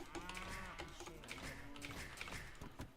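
Cattle lowing in the Age of Empires II strategy game, several overlapping moos sounding steadily throughout against game ambience, with no talk over them.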